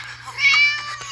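A cat meows in the horror video game Scary Teacher 3D, a single drawn-out, fairly close call that rises and fades over about a second, with soft game ambience and a steady low hum beneath.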